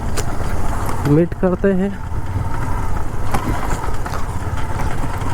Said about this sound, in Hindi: और मेरा बाइक थोड़ा आवाज़ कर रहा है ज़्यादा ही, शायद इसका शॉकर चला गया है।